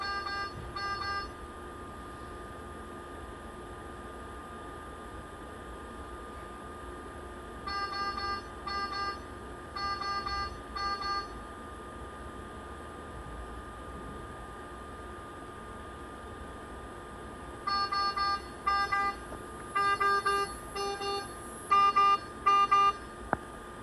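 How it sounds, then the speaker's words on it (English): Short electronic low-pressure alarm beeps for nitric oxide and nitrogen gas sound in clustered bursts with long pauses between, over a faint steady hum; later bursts come quicker and louder. "Purge is complete when low NO, N2 pressure alarms activate."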